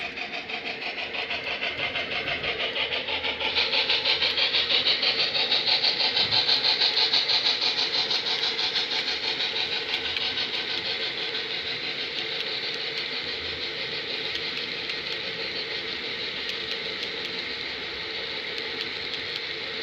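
A model B&O EM-1 locomotive pulling a long train on a model railroad gives a steady whirring motor drone with a faint rhythmic clatter, swelling slightly louder midway and then holding even, with no voices.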